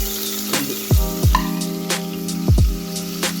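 Onions fry in oil in a pressure cooker, a loud close sizzle broken by several sharp scraping and stirring knocks against the metal.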